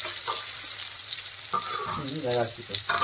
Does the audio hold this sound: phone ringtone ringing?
no